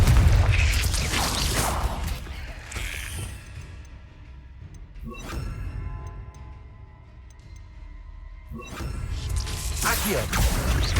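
A Confringo fire-blast spell goes off in Hogwarts Legacy: loud booming bursts at the start, middle and end, with a crackling rumble between them amid battle sounds and game music.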